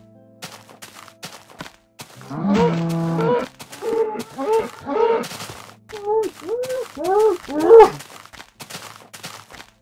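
Several cattle moo in Minecraft, deep drawn-out lowing calls following one another closely, with a few sharp clicks in the background.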